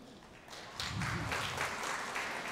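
Applause from a church congregation during an evening homily, rising suddenly after a quiet start into a steady, moderately distant patter of clapping with a faint voice underneath.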